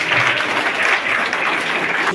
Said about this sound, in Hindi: तालियों जोर से बजाओगे।